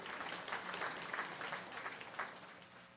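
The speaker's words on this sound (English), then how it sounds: "round of applause." A crowd at a software community conference opening breaks into applause, dense clapping from many hands, fairly distant and soft, continuing evenly for a few seconds before easing slightly.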